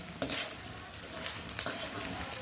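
Besan frying in ghee in a pan, a steady soft sizzle with a few scraping stirs of a spoon, close and fairly quiet.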